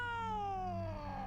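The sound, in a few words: cat meowing in a horror video game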